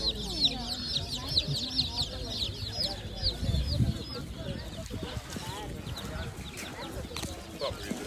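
Day-old chicks at a livestock market cheep constantly in high, busy chirps over market bustle, with lower clucking and people talking nearby.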